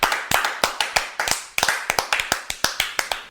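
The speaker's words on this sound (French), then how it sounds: "Ok, on peut vous applaudir." Sparse, uneven claps from a small studio audience on a French talk show, sharp separate hand claps in an irregular rhythm, close and fairly loud, with no voices over them.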